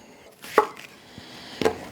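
A knife slices an onion in half on a cutting board, two crisp chops close by with a short pause between, clean and alone.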